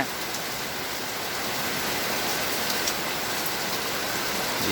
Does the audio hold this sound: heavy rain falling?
yes